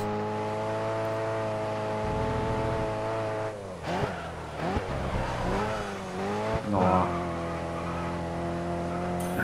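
A race car engine in the GRID Autosport racing game drones at high revs, then rises and falls through gear changes with tire squeals and skids, loud and close.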